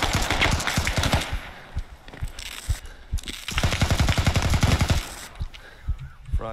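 Rapid machine gun bursts in the military shooter game Squad, dense rattling volleys firing in two long loud stretches with a short lull between, no talking.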